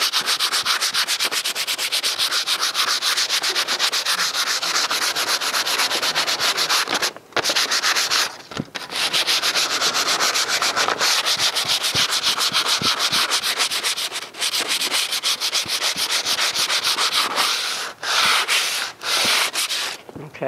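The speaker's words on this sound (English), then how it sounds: "Now we're supposed to sand it." Continuous hand sanding, a steady loud scratchy rubbing with brief pauses, heard alone at close range.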